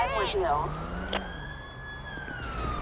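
Police car siren in San Andreas rising into a steady wail at moderate distance, heard under and after a man's speech in the game.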